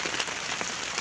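Rain patters steadily during a chili pepper harvest on a farm, a broadband hiss with scattered drops, continuous and fairly close for the full second.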